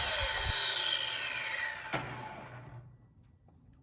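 A table saw cutting wood, a harsh whirring rush that fades as the blade winds down and goes quiet after about three seconds, fairly soft overall, with a brief knock midway. No talking.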